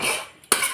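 A spoon scrapes and clinks against a pot while masala is tipped and mixed into Kerala-style mutton curry, giving a close metallic rasp that fades, then a sharp knock and renewed scraping.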